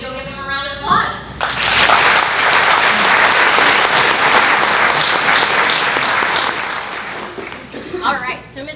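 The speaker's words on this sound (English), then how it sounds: "If you'll give them a round of applause." Audience at a school district convocation bursts into loud sustained applause and some cheering that rises after a brief quiet start, then tapers off as a voice begins speaking.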